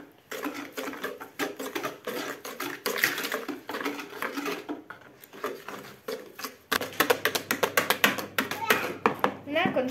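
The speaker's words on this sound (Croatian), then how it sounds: "Jaje i šećer mutiti oko 2 minute" Eggs and sugar being beaten together for apple pie batter, heard as a quick, steady rattle of whisk strokes against a bowl, close and continuous, briefly pausing and then resuming faster with a motorized hum.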